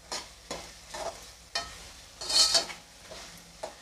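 Ginger-garlic paste and cut green chillies being sautéed in a pan, a faint sizzle punctuated by several distinct scrapes and taps of a spoon against the metal, close and quiet, no voices.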